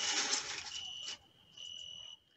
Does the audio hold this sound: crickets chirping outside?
yes